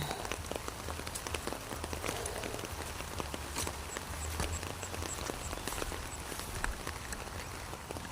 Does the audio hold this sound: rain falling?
yes